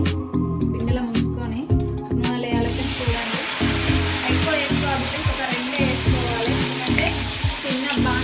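Chilli bajji battered green chillies fry in hot oil with a steady, loud bubbling sizzle that runs throughout. A person talks over the frying.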